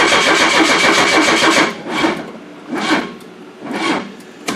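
An old Oldsmobile engine cranked and coaxed to start on a weak battery, a long grinding crank followed by three separate surging bursts of revving with pauses between, loud and close, with no talk.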